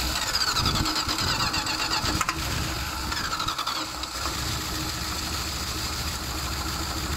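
A car engine with a faulty ballast resistor cranks and catches, running rough while the starter turns, loud and continuous throughout with no speech.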